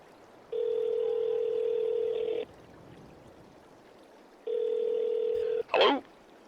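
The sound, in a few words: telephone dialing tone when placing a call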